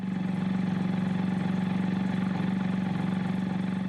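An NSU Wankel rotary engine idles steadily, giving a smooth, even, low-pitched hum with a fast fine pulse. It is close and continuous for the whole stretch, with no revving and no voices.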